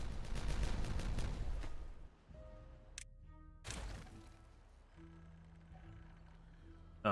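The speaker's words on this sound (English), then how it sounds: "You go and detonate all that." Explosives detonating in the beaver colony-building game Timberborn: a loud cluster of rapid blasts at the start that fades out, followed by quieter game tones and a brief burst, with a voice talking intermittently.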